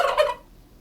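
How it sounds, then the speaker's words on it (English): A single turkey gobbles once, a short loud burst of rapid warbling that cuts off abruptly and leaves quiet. "A turkey makes this sound."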